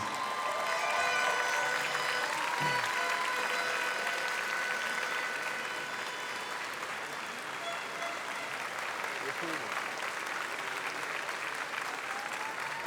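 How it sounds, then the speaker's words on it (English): A steady wash of audience applause and light cheering for the Philippines team at the Coupe du Monde de la Pâtisserie 2023 pastry competition, sustained and fairly distant, with a faint voice briefly rising over the crowd. "So a bit of cheering there for the Philippines, of course."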